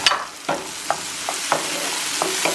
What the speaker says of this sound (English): I'm sauteing all the veggies now,